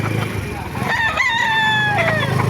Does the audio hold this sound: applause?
no